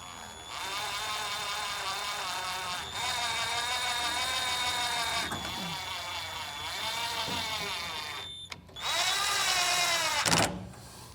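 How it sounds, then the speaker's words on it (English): A power driver spins screws back in around the auger of a Camp Chef Apex, giving several sustained whining bursts of the motor with brief pauses between, close and fairly loud. "then we can put the 4 screws around the auger"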